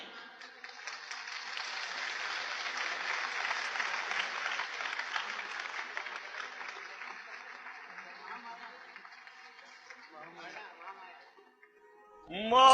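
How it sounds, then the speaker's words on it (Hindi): An audience at a devotional Hindu bhajan gathering claps steadily for several seconds in a dense, continuous patter that slowly fades, with voices heard near the end. "आप लोग सब तालियां बजाइए।"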